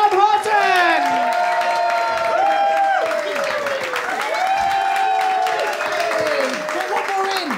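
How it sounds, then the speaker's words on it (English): A comedy club audience welcoming comedian Tom Houghton to the stage with loud, sustained applause mixed with many rising whoops and cheers, all at a constant, full level. "Round of applause. Lots of whipping and cheering."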